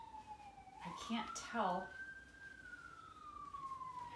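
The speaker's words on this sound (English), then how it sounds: "And now that I'm trying to film this, of course there's an ambulance." An ambulance siren passes outside a quiet country home, its wail rising and falling steadily at moderate distance while a person speaks briefly over it.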